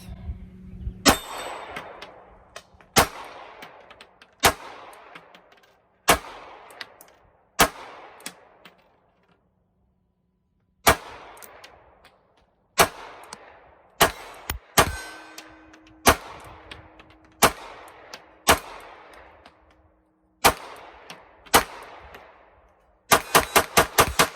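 A pistol fitted with an extended S15 magazine fires a series of loud, sharp single shots at uneven intervals, each ringing with a metallic clang, ending in a quick rapid burst.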